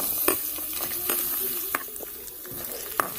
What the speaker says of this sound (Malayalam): ഇനി ചെറുതായി അരിഞ്ഞ ഇഞ്ചി വെളുത്തുള്ളി ഇട്ട് കൊടുക്കുകയാണ്.